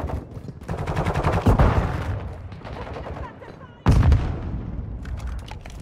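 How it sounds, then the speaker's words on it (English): Video-game combat gunfire: sustained rapid automatic bursts crackle loudly for several seconds, a heavy boom-like shot punches in near the end, and voices occasionally sound over the firing. "Taking effective fire!"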